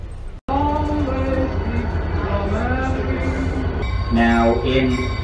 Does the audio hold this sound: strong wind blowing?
no